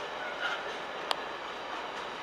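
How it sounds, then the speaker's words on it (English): A freight train passing through a station at Peterborough, a steady rumbling rush of wagons rolling by at moderate distance with a single sharp metallic click midway. "Hurry up, freight train."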